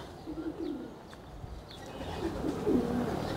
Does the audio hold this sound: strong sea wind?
no